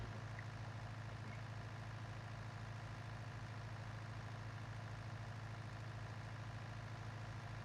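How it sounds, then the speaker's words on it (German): A tractor engine strains at a steady low drone in Landwirtschafts-Simulator 19, holding one constant rumbling pitch without a break, quiet and unaccompanied by any voices. "Der Motor hat zu kämpfen."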